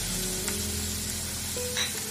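Spices and tomato sizzle in a hot pan while a pasta sandwich filling is cooked, a steady close frying hiss running throughout with a brief stir partway through.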